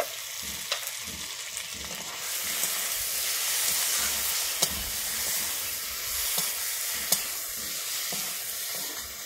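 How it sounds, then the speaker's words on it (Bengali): Okra fries in a pan with turmeric, a steady close sizzle broken by occasional sharp spatula taps and clicks, with no talking. "আমার ভেন্ডিটা এখানে ভাজা হয়ে গেছে"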